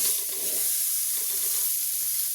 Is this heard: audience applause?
no